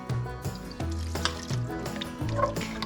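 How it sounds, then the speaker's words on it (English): Onion soup and red wine stirred together in a cooking pot for a pot roast, with a repeated scraping, swishing stir and a faint sizzle, close and steady, several strokes in a loose rhythm with no talking. "Adding in our lovely onion soup, a little bit of red wine, giving everything a nice stir."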